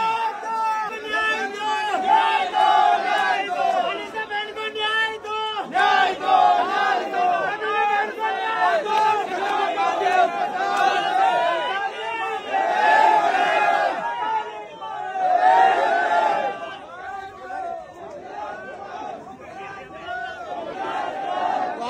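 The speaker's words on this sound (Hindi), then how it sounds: "देख सकते हैं भारी भीड़ इस वक्त अखोड़ी में है। मसाल जुलूस यहाँ पे निकाला जा रहा है" A large crowd at a torch procession in Akhori chants and shouts continuously, loud and close, with overlapping voices and rhythmic slogans running throughout.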